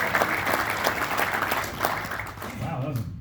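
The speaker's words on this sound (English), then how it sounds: "Wow, that was a big applause." Crowd applause at a fantasy camp welcome event for a baseball team, dense and sustained throughout with bright clapping, fading slightly at the end as a voice starts to come through.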